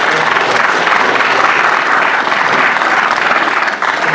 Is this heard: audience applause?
yes